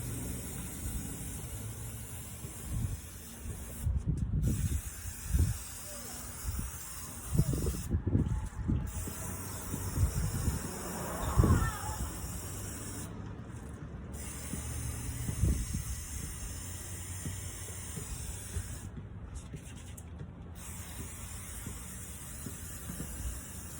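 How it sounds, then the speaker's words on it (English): Short bursts of hissing spray from a spray bottle of citrus paint stripper onto a wooden rocking chair, several pumps spaced a few seconds apart, close by in a quiet room. "keep spraying down this with the citrus strip"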